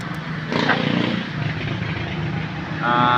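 An idling AXO 150 microbike engine, brand new with a carburetor, putters steadily up close, with a low continuous chug and a slight rise in intensity near the end.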